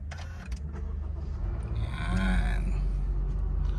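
A 2024 Honda City 1.5 V CVT started with the push button, a brief starter whirr catching into a low steady idle hum that grows slightly louder, heard from inside the cabin.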